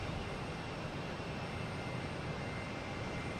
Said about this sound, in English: We got Lufthansa A380 just sitting here,